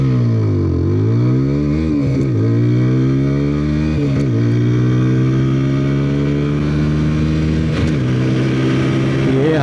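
A 2023 TVS Apache 160 4V SE motorcycle pulls away from first gear in an acceleration test, its engine revving loud and close in rising sweeps broken by brief dips at each gear change, running steadily for nearly ten seconds without talk.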